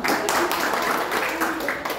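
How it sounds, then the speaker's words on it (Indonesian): A church congregation clapping together during a worship service, dense sustained applause filling the room with a few sharper claps standing out. "Tepuk tangan semua dong"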